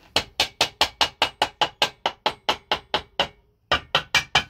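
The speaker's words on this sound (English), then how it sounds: "I'm just using a rubber mallet." Rubber mallet from a small Craftsman kit tapping a Kawasaki KE102 motorcycle gearbox side cover: a fast, steady run of about fifteen dull, close knocks, a short pause, then four more, loud and alone.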